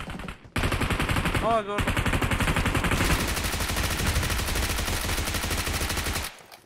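Rapid automatic gunfire in PUBG Mobile, a dense loud burst running almost continuously for about six seconds with a brief gap near the start, and a short spoken remark over it.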